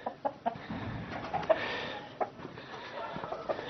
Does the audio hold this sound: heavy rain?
no